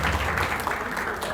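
Audience clapping for the cast at a youth festival drama performance, a dense steady wash of applause heard briefly with some voices mixed in.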